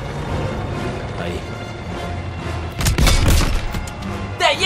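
Gunfire and tank cannon blasts in Call of Duty: WWII during urban combat in Aachen, with a quieter rumbling stretch before heavy booming shots and bursts hit loud and close near the end.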